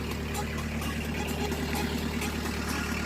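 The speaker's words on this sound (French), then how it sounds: "Là vous entendez bien le moteur qui tourne" A car engine idles close by with a constant low rumble and steady mechanical hum, loud and even throughout the short stretch.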